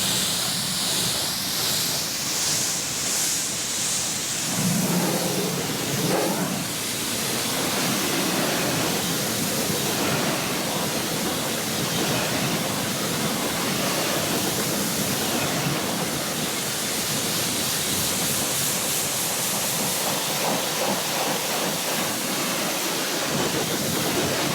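Steady hissing spray of rinse water washing car wheels and brake discs on a Nissan Nismo car, a continuous close rushing wash without pauses or talk.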